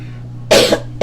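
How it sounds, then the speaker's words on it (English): A person coughs hard, their throat tight and irritated: one loud, breathy cough burst, then a second starting right at the end, over a low steady hum. "With me continuously coughing and my throat is feeling very tight"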